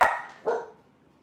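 Dogs bark indoors, two sharp barks about half a second apart and fairly close, then a quiet fade.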